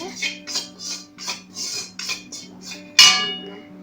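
A spoon scrapes and stirs wheat flour roasting in a pan in a steady rhythm of about eight close, rasping strokes, ending in one louder clatter against the metal.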